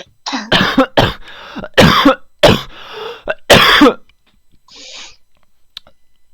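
Someone nearby coughs hard several times in a rapid series, followed by a few softer throat-clearing sounds and quiet.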